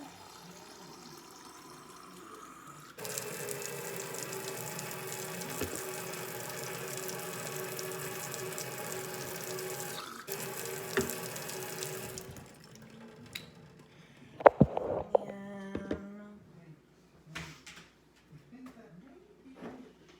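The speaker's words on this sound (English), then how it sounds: "And I fill it up to 7 with water." Kitchen tap water runs into a baby bottle being filled for formula, a steady stream lasting about nine seconds, followed by softer clinks and handling noises as the bottle is set down.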